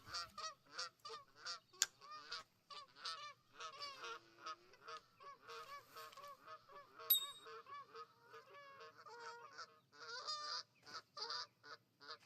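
Geese in the Fishing Planet video game honk wildly and continuously close by on the water, a dense chorus of overlapping calls with a few sharper peaks.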